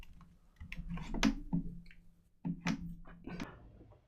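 Soft, muffled typing on a computer keyboard fitted with a keyboard cover, a few quiet clustered key taps in two short bursts, faint and close.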